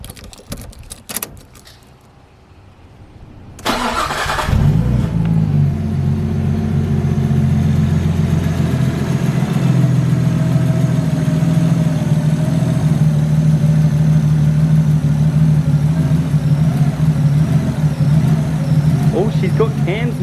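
A Nissan R33 Skyline with aftermarket cams, freshly bled after a coolant leak repair, cranks and fires, then idles loudly and steadily close by with a lumpy, uneven rumble, after a few clicks and key sounds at the start.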